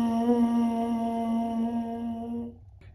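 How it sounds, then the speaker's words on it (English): Lips buzzing steadily into a trombone mouthpiece alone, a single sustained nasal drone held for about two and a half seconds before cutting off, close and fairly loud. "you're going to do that buzzing straight into that mouthpiece, and it should sound something like this"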